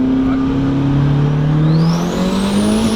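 A boosted Nissan 240SX pulls hard in third gear on a street in Mexico, its engine note climbing steadily in pitch with a rising turbo whine, loud and close from start to finish.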